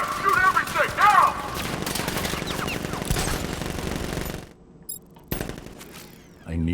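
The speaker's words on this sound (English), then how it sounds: "Guard! Open fire! Shoot everything! Now!" Bursts of rapid gunfire from guards in Batman Arkham Knight, dense and loud with shouting voices mixed in, then fading to sparse clicks and a few isolated shots toward the end.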